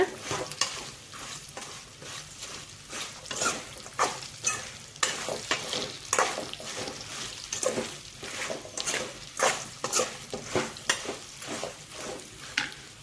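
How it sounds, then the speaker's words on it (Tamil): Raw banana pieces, already fried, are stirred with masala in a sizzling pan. A spoon scrapes in quick, irregular strokes over a steady, soft frying hiss, fairly close and at moderate loudness. "ஸோ போட்டுட்டு நல்லா ஒரு 2 நிமிஷம் கலந்துக்கோங்க"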